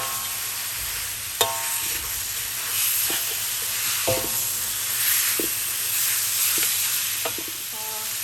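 Pork belly frying in a pan, a continuous close hiss and sizzle broken by several sharp metallic clinks and scrapes from a stirring utensil, with no voices.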